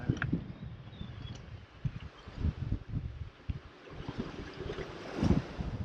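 Strong Force 6 wind gusting to Force 7 roars and buffets the microphone aboard a sailboat crossing the Bay of Biscay, with gusts rising and falling over rushing water and waves.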